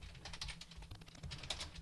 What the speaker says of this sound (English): I was typing on the